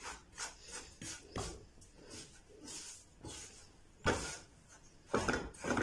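A spoon stirs vermicelli roasting in a pan over a slow flame for a sweet seviyan dessert, making irregular scraping and rubbing strokes, with a few louder scrapes near the end and no voices.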